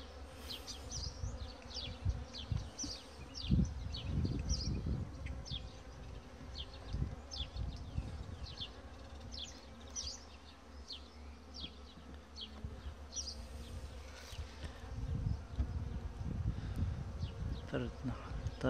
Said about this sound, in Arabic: طرد نحل طبيعي.